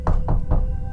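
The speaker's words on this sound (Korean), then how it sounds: "그때 아래층 현관에서 노크 소리가 들렸다." Three heavy knocks on a front door downstairs, evenly spaced and fairly loud with a dull, low thud, heard alone late at night in a house at the edge of a forest.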